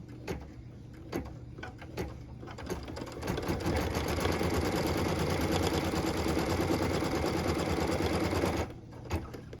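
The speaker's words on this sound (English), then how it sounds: "I can go ahead and stitch the tack down line for piece number 2" An embroidery machine stitches the tack-down line for a Christmas tree ornament piece. After a few soft clicks it settles into a steady, fast, whirring mechanical hum that is loud and close, then stops near the end. No one talks.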